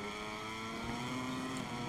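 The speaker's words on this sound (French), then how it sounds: "Allez, Julie, les bruits de moto dans l'ensemble ont été améliorés" Motorcycle engines in the MotoGP 23 racing video game give a quiet, continuous droning hum with steady tonal layers throughout, and no voices.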